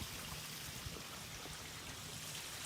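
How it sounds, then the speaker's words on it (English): An outdoor water fountain runs steadily, a continuous splashing, trickling wash of water heard close and alone with no talk. "My water fountain."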